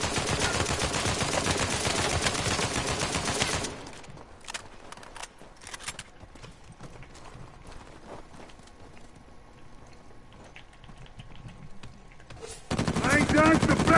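Automatic gunfire in Uncharted 4 multiplayer, a video game: several seconds of loud, continuous rapid fire, then a quieter stretch of scattered shots and thuds, before another loud burst of firing at the end.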